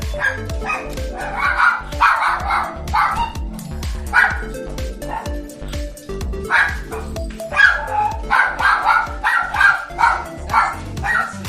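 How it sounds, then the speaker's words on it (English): A small dog yaps and barks in repeated bursts close by, with some whimpering yips mixed in, loud and fairly continuous throughout. "What you're hearing here is Sassy, the smallest of the 2 dogs that I'm taking care of here in St. Louis."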